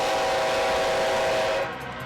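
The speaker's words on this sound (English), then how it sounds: "a push to silence train noise" A train whistle sounds with a sustained steady tone over rumbling rail noise, then cuts off, leaving the fading train rumble.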